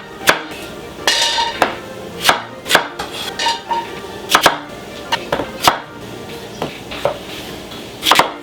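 A knife chopping potatoes on a board, a fast irregular run of sharp, close thwacks and cuts with brief pauses between bursts.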